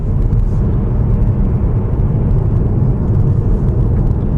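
A 2016 Kia Optima Platinum, a fourth-generation family saloon, cruising over a smooth road, giving a steady, loud broadband rumble of road and engine noise inside the cabin with no speech.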